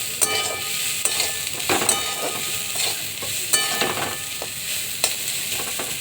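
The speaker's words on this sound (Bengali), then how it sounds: "আর এদিকে দেখো আমার পছন্দের এই যে চাল কুমড়োর খোসা ভাজা করছি।" Ash gourd peels frying in a pan with oil, giving a constant close sizzle and hiss, marked by occasional sharp clicks of a spatula stirring.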